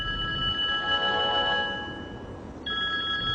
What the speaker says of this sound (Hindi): सना का फोन है